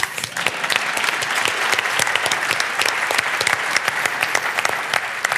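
An audience at a university chancellor installation ceremony applauds steadily, a close, even wash of many hands clapping with no speech over it.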